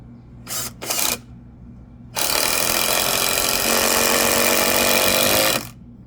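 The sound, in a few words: power drill screwing raised garden bed boards together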